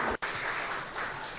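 An audience claps at a space radio environment conference, a dense steady applause from many hands with a brief dip near the start, with no talking.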